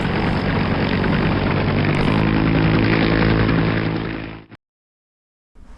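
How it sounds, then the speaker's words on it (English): A helicopter flies a patient to a Philadelphia hospital, its loud, close, steady rotor and engine roar filling the air before it cuts off abruptly into silence. "So I got to go on another helicopter ride."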